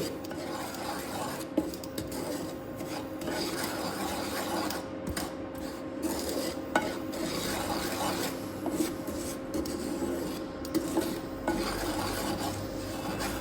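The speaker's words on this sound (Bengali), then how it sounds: "তাহলে সুজিটা আমি ঘিতে একটু ভেজে নিলাম।" Semolina being fried in a spoonful of ghee in a pan for sooji payesh, with a steady close scraping and rasping of a spoon stirring against the pan bottom, continuous throughout over a low background hum.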